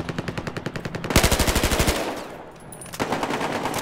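Rapid automatic gunfire from the shooter game Battlefield Hardline, with loud bursts of evenly spaced shots, a brief pause, then another burst close up.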